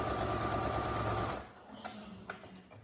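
A sewing machine stitches elastic onto a child's face mask, a fast steady whirring run that stops abruptly, followed by faint handling noises.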